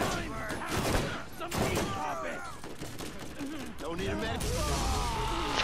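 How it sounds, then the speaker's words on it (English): Rapid gunfire and a loud blast from an exploding barrel in the video game Borderlands, with dense overlapping shots and bursts running throughout, while a voice talks over the chaos. "That looked like a barrel that just exploded and then had a wall of electricity."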